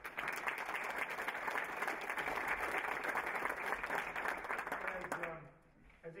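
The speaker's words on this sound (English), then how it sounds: "Let's give him a round of applause" Steady applause from an audience at a Kiwanis awards ceremony fills the room for about five seconds, then fades out quickly near the end.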